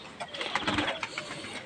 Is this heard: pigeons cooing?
yes